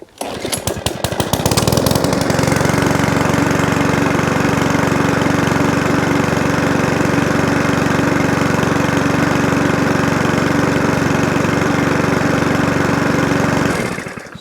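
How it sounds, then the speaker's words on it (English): Lawnmower petrol engine running on E10 fuel, a loud steady drone with rough, knocking texture that holds for about twelve seconds after a sputtering start, then cuts off near the end. "this one here is going to be the new E10, which some people say you can't run lawnmowers on E10 fuel"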